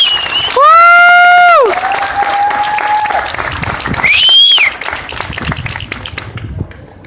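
Loud applause and cheering from a crowd at a 2014 community celebration of cultures for cultural champions, with clapping throughout and high sustained shouts and whoops rising over it.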